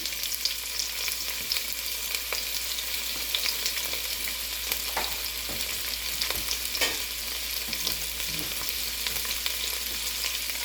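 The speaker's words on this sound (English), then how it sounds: "And then just going to stir it around. And we're going to get our sausages all nice and brown." Sliced sausages fry in about half a tablespoon of oil in a pot while being stirred, a loud, steady sizzle with occasional scraping clicks from the spoon, no voices.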